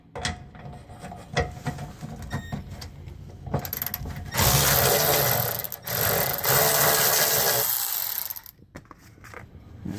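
Ratchet wrench loosening a gas tank shield bolt while servicing a Jeep fuel pressure regulator and filter, rapid clicking bursts that build into a long loud mechanical run before stopping and resuming, nearby.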